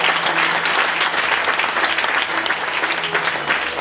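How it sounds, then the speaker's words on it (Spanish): Steady, dense applause from a church congregation during a wedding ceremony, loud and continuous without a break, with faint murmuring beneath it. "Dale un fuerte aplauso al Señor."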